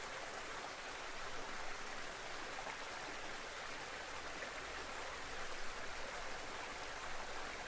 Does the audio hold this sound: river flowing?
yes